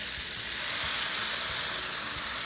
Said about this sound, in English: You just hear that sizzle.